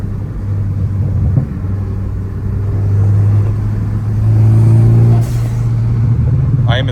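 Ford Focus ST pulling hard in third gear, its engine a steady, close droning rumble that climbs gradually and holds under faint road noise, with a brief tonal swell near the end.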